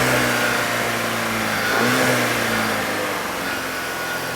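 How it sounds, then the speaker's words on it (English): A 2013 VW GTI with a 2.0L turbo engine is held at a steady, continuous rev, its tone climbing briefly in a short blip before settling back, close and loud with no talking. "you'll need to kind of keep the engine continuously revved"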